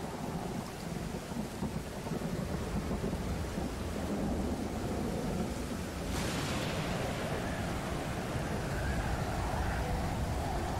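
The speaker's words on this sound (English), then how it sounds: "the storms are never ending" A thunderstorm rages in the survival game Stranded Deep: steady heavy rain and rolling thunder, with a sharper crack midway, loud and continuous with no voices.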